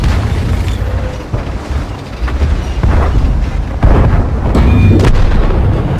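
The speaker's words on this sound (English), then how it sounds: "it looks like that OI just fired an AP round at me because I bounced it." Booming, burst-like impacts and rumbling battle noise from the World of Tanks video game, where an armour-piercing round ricochets off a tank; several loud hits land over a constant low roar, with no talking.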